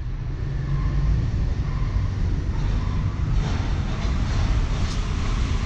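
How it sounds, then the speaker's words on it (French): A metro train passes nearby, a loud, steady low rumble and roar heard from inside a Mercedes C63 S, with no talking. "On entend le métro qui passe."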